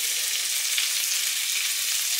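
Frikadellen, German meat patties, sizzle and fry in a pan over medium to low heat, making a steady, close hiss with no pauses and no voices.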